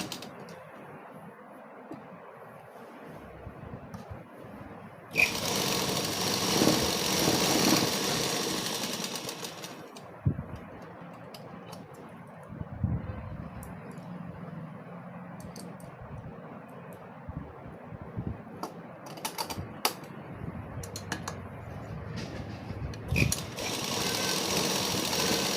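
A sewing machine stitching cloth whirs in bursts, one long loud run and several shorter ones, separated by quieter pauses with handling clicks and knocks.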